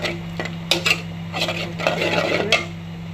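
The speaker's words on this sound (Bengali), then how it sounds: "এটা কষাচ্ছি, মুরগা রান্না করবো, মশলা কষাচ্ছি" Spices stirred in a pan for chicken curry, with scattered metallic clinks and scrapes of a utensil against cookware over a steady low hum, no talking.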